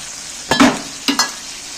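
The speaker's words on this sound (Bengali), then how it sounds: "সেই মশলাটা আমি একটু ওই জলটা দিয়ে দিচ্ছি।" Rinse water from a stone grinding slab splashed into spice paste frying in a pan, making two short sizzling bursts about half a second apart, with quiet background before and after.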